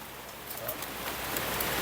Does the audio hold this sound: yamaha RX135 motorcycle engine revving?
no